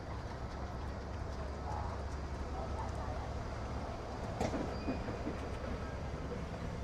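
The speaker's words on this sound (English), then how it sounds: "Marcel, check out the monorail, Marcel" A Walt Disney World monorail glides past at the Magic Kingdom during the Christmas season, a steady rolling rumble with faint wheel clatter held throughout amid crowd ambience.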